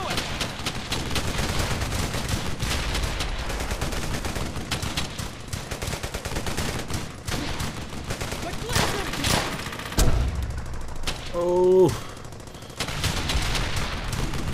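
Dense battlefield gunfire in the World War II shooter Brothers in Arms: Hell's Highway, rapid rifle and machine-gun shots crackling throughout, with a heavier blast near the end and voices shouting in the mix.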